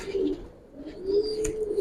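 A pair of Giribaz pigeons in a loft give soft, rolling coos in two close bursts separated by a short lull, with no one speaking.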